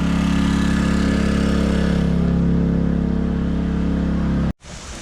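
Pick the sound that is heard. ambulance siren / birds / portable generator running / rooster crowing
portable generator running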